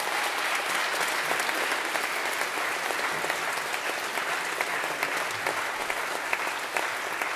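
A concert audience at the Nordic Soundscapes closing concert applauds the folk musicians with sustained, even clapping from a large crowd, loud and unbroken throughout.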